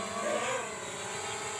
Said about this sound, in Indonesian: Drone-nya kita naikkan dulu ya.